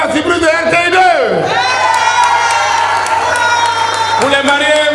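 A crowd at a wedding ceremony cheers and claps for the newlyweds, loud and continuous, with shouts and whoops rising over the noise and an amplified voice sliding in pitch above it.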